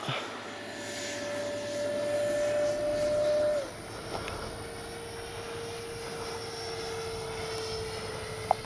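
Freewing 70mm Yak-130 RC jet passing overhead on its maiden flight, a sustained ducted-fan whine that rises and then drops in pitch as it passes, moderately loud against open-air background.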